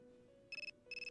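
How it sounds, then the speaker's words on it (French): A phone rings in the video game Persona 3 Portable: two short bursts of rapid electronic trilling over a steady, quiet background tone. "Votre téléphone sonne."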